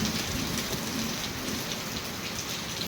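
Heavy rain pours without letup, a thick constant hiss of drops hitting nearby surfaces, cutting off abruptly at the end.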